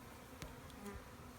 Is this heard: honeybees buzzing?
yes